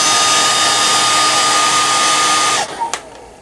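A heat gun blows hot air onto a plastic action figure part, a loud, steady close whooshing hum that cuts off abruptly near the end.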